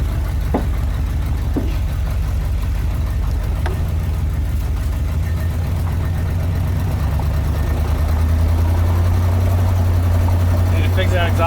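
A 1972 Corvette engine runs steadily with the choke disabled, a continuous low rumble with a possible exhaust leak, heard from inside while driving, with a few faint knocks and a slight rise in engine tone near the end.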